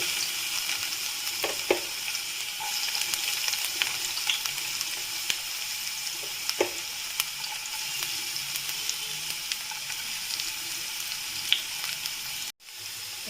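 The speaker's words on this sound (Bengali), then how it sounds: "তেলটা গরম হয়ে গেছে এবার আমি এর মধ্যে প্রথমে রসুনটা দিয়ে দিচ্ছি" Garlic sizzles steadily in hot oil in a home kitchen pan, a continuous crackling hiss broken by a few brief clinks and a short dropout near the end.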